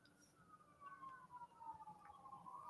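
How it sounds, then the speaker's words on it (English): A faint siren wails from far off outside a truck, its tone sliding slowly downward as it passes under a low, steady cab rumble. "Excuse the sirens."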